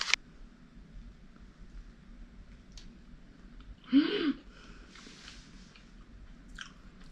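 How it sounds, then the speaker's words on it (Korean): A snack bought at a supermarket in Fukuoka gets one crisp, close bite midway through otherwise quiet surroundings, with soft mouth noises around it. "이거는 지금 먹어볼 거예요"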